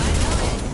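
Impact shot gunfire from Mass Effect 2 Legendary Edition on Insanity difficulty at Omega Station, a dense, continuous barrage of loud blasts with no clear gaps, close and filling the whole moment.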